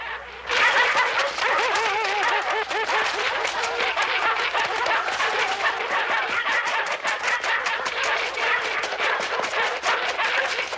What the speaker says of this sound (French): Les chiens de montagne ne sont pas loin.